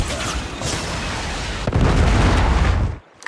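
Heavy booming blast from a predator missile strike in a Call of Duty match, a rumbling explosion swelling loud and close for over a second before cutting off abruptly.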